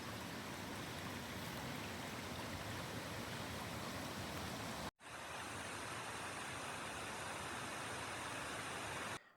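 Steady, dense rush of falling water from a creek waterfall in the Sierra Nevada near Oriole Lake, constant and loud, briefly cut once before continuing unchanged.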